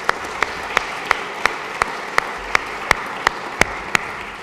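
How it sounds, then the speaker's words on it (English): Audience applause for student musicians of the Bell Chamber at a university alumni lunch, a moderate crowd clapping under a steady, regular clap or click that repeats roughly three times per second. "Can we please have a round of applause for the students from the Bell Chamber who have just played some lovely music."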